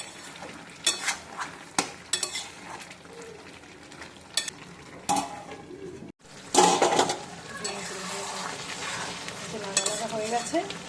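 Chicken stirs and fries in a kadai, with steady sizzling and repeated scrapes and clinks of a spatula against the pan, close and fairly loud, no talk over it.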